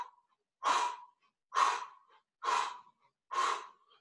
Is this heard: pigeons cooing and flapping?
no